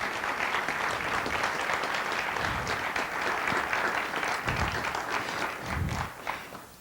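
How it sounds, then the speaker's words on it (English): An audience at a candlelight vigil claps for a student, a sustained round of applause at moderate distance with no speech over it. "give him another round of applause"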